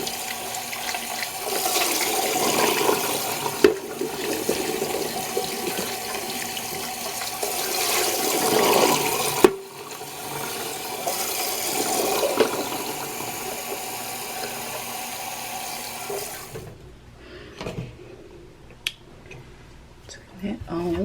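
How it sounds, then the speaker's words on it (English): Cut vegetables are rinsed under a running kitchen tap, a steady hiss of water for about sixteen seconds that shifts slightly as the food moves under the stream. Then it shuts off, leaving a few faint clunks and quiet handling. "cut up, and I'm just going to rinse them off."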